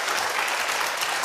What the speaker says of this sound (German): Man kriegt Beifall von der falschen Seite, ja.